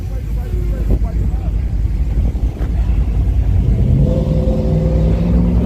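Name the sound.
truck with nitrous revving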